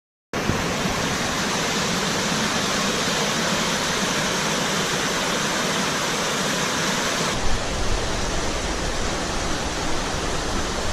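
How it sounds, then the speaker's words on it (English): A forest creek rushes loudly and steadily under a tree canopy past rocks, a dense roaring wash of water that holds constant throughout with no voices. "listening to the thunder of the creek going through here"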